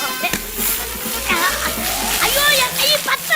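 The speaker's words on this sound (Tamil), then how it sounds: "அடுத்தது புளி தண்ணி." Tamarind water is poured into a fish curry cooking in a pot, a brief close splash and slosh while people talk.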